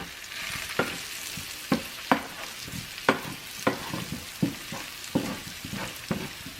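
Potatoes, peppers and tarragon fry in oil, a soft sizzle broken by regular scraping knocks of a spoon stirring the pan, about one each second, close up.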